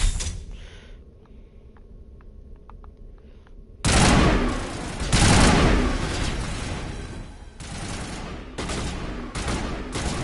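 Gunfire in the video game Mass Effect 1: a quiet stretch with a few faint clicks, then a sudden loud fusillade of rapid shots and booming blasts that continues in bursts to the end, no voices.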